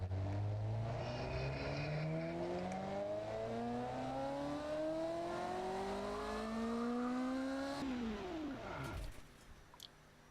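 A car engine in the Automation video game revs steadily higher in one long climb until it fails from valve float, then the tone drops sharply and dies away.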